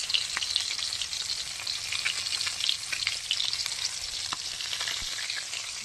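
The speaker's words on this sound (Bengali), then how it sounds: "দেখুন বন্ধুরা, মাছ ভাজা হচ্ছে" Fish fries in a pan of oil with a dense, continuous hiss and crackle, close and even, broken by small pops and the odd stir.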